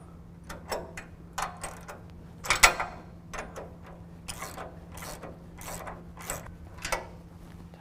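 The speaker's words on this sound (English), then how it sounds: "we can tighten down our 4 bracket bolts on our driver's side" A ratchet clicks in quick bursts, tightening 3/4-inch bracket bolts on the driver's side of a Go Industries Pro Series bumper on a 2017 Ford F-250, close and crisp over a low hum.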